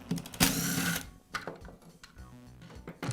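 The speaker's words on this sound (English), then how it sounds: "Now I can remove the belt cover." A belt cover being taken off a Makita belt sander, close-up clicks, taps and scraping of plastic and metal parts in short irregular bursts, with a brief louder rasp near the start.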